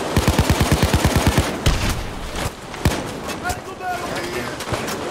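Loud gunfire in Payday 2, a fast evenly spaced automatic burst at first, then heavier irregular shots and bangs layered over a busy background of combat noise.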